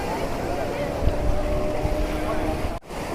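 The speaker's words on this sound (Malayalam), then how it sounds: "ബോട്ടിൻ്റെ തലക്ക് വാലിന് കെട്ടിയിട്ട് കടലിലൂടെ ഓടിച്ചുകൊണ്ടിരിക്കുന്നത്." A boat engine drones steadily at sea while towing an inflatable, with wind buffeting the microphone, then a brief dropout near the end.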